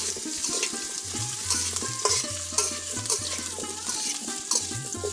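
Potatoes are stir-fried with turmeric and chili powder in a pan outdoors on a Padma River sandbar. A constant frying sizzle runs under repeated scraping and clattering stirring strokes, close and fairly loud.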